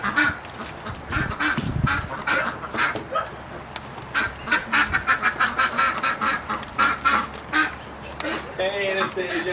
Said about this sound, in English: the ducks are going crazy